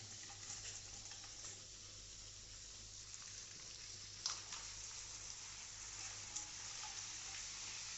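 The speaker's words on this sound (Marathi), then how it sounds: "आता याचे नांगे फ्राय करून घेऊ" Prawn tails fry in a pan with a faint, continuous sizzle under a low steady hum, a couple of soft taps breaking through, close but quiet with no talking.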